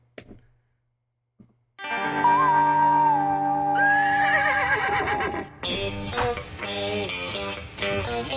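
A horse neigh used as a sound effect within a pop song rings out as a long, loud whinny with a wavering pitch and processed, effects-laden character, followed by the music continuing.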